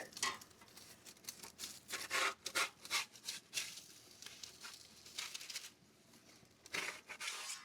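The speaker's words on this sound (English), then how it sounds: "I'm going to see if I can get that parchment out of here." Parchment paper is dragged out from under a tavern-style thin-crust pizza baking on a pizza steel in a home oven, giving a series of faint rustling, rubbing scrapes in uneven bursts.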